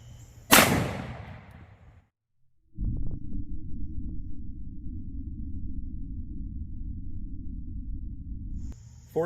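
A single loud, sharp gunshot from a 5-inch 1911 pistol firing .45 Super Underwood 135 gr Xtreme Defender rounds into ballistic gel, followed by a decaying ring, brief silence, then a steady low rumble of background noise.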